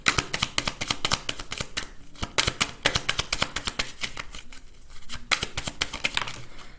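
Close, loud shuffling of a deck of cards, rapid papery riffles and slaps in quick bursts separated by short breaks, continuing for several seconds without talking.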